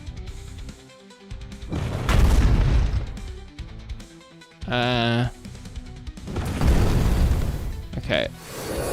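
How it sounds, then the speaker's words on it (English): Explosions in the survivor roguelike video game Aviorum, built in Unity, land as several loud booming bursts spread through the clip, mixed with game effects and a brief chirpy electronic tone, while someone talks over them. "The explosion is definitely louder."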